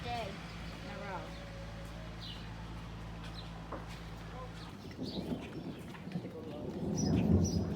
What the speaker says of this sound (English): Ooh, we got a storm a-brewing.